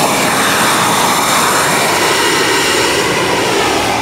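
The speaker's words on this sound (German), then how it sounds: "Das klingt ja wirklich wie ein Start des Flugzeugs" A jet engine blasts a steady, loud, broadband roar inside a road tunnel as it warms the road surface, sounding like an airliner at takeoff, continuous and unchanging with no voices.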